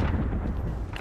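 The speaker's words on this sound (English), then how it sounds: "We're shooting." Gunfire in the Apex Legends battle royale game, a dense burst of booming shots with heavy low rumble filling a brief moment, loud and close, with no voices over it.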